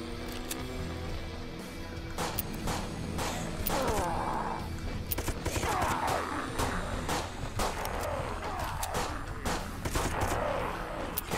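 Gunfire in the video game Dead Sky, rattling bursts and sharp cracks mixed with impacts and crashes, moderately quiet and continuous across the stretch.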